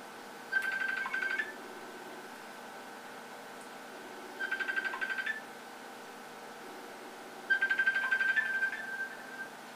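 A phone rings out on a group video call, three short electronic ring bursts spaced a few seconds apart over a faint steady hum, fairly quiet and alone without talk.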